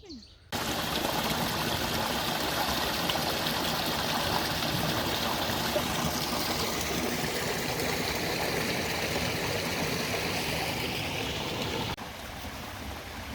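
A trailside stream on the Appalachian Trail flows steadily and close by as water is collected, a continuous broad rushing trickle that runs unbroken and then drops off near the end.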